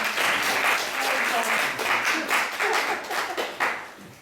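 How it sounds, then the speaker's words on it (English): An audience at a children's Islamic storytelling session claps for a third-place prize winner, a close and loud burst of fairly brisk applause that fades toward the end. "Let's give him a big clap as well."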